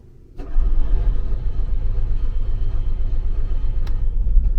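An RV generator engine cranks and rumbles steadily for several seconds after a sharp start, a low churning drone without fully catching.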